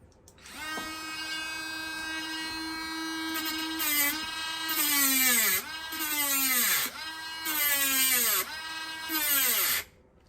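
A handheld Dremel-brand rotary tool cutting brass, its high-pitched whine steady at first, then dipping and recovering in pitch several times as the bit bites into the metal, loud and close with no talk.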